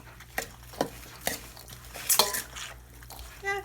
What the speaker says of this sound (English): Let's stir it up and see what we think.